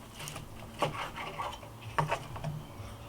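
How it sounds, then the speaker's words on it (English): A sharp knife sawing down along the bone of a reverse-seared tomahawk steak on a wooden board, giving close, rasping scrapes in short strokes with a couple of firmer knocks. "we're going to take a good sharp knife and we're going to run it down the bone"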